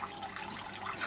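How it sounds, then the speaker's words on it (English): A short burst of rushing, gurgling water comes from an aquaponics bell siphon during its flush, a steady wash of liquid noise without speech. "First you will get the drip flow, the pre-flush flow, the full flush, the post flush, then you will go back to the drip flow."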